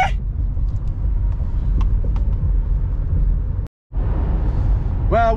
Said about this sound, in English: we're driving on the 580 interstate towards San Francisco now